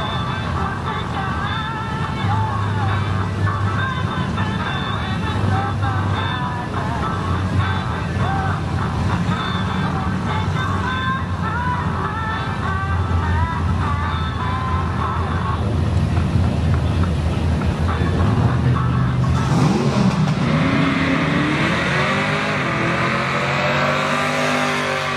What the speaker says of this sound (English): That's the Rover V8